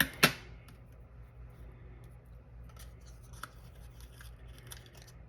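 A single crisp snip of scissors cutting paper for a decorative page tab, close and quiet, followed by faint rustling and small paper handling clicks.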